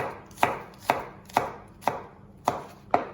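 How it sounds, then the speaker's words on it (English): A knife chops onion into small pieces on a cutting board, six crisp, evenly spaced cuts at a steady rhythm, close up with no talking. "slice that nice and small. You don't want big chunks of onion in it."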